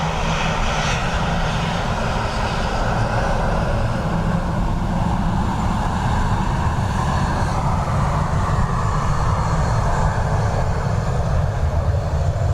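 A fixed-wing airliner lands on runway 28 left at Dublin Airport in a crosswind, its engines a loud sustained roar with broadband rumble that shifts slightly in pitch as the aircraft passes.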